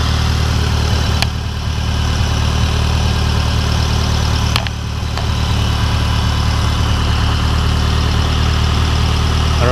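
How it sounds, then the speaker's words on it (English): A Mitsubishi Lancer Evolution X engine idles with a steady, low rumble and a faint mechanical hum, broken by a couple of brief clicks; no voices. "It seems to be idling pretty good."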